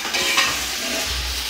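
Chicken sizzles and fries in a hot pan while being stirred, a loud, close, continuous crackling hiss with a brief scrape of the utensil, and no voices over it.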